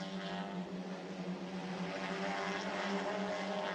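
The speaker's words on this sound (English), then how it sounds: "Oh, engine blows in car 55." Racing TCR touring car number 55 suffering an engine failure, a dense, loud engine roar with steady harmonic drone held throughout, no voices.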